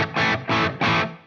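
Three short bursts of distorted electric guitar chords through a Sheriff amp, each cut off sharply before the next, loud with a slightly rounded tone.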